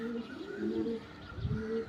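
Pigeons coo close by in soft, rolling low calls that overlap across a brief moment.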